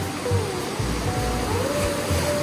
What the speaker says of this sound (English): Because these are like waves that just keep rolling in.